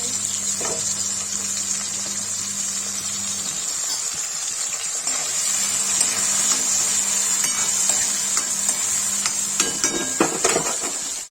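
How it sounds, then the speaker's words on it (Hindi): Mushrooms frying in hot oil in a pan, a steady, close hissing sizzle that grows slightly louder partway through, with a few stirring scrapes. "देखिए मशरूम फ्राई हो गया"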